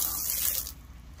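Water spraying and rinsing off a car tire during a rim and tire cleaning with Cover All tire shine, a loud steady gush that cuts off abruptly partway through.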